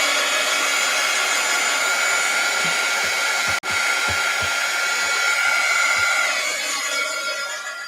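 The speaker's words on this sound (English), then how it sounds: "Let's hit it with the heat gun before I close it." A heat gun blowing steadily on wet paint, a loud continuous whooshing roar with faint soft taps underneath and one brief cutout midway, no voices.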